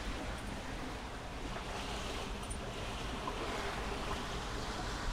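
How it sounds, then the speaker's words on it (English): Ocean waves wash and splash into the cockpit of a sailboat on an open-sea passage south from New Caledonia to New Zealand, with a continuous loud rush of water and wind noise on the microphone. "all these waves coming into the cockpit"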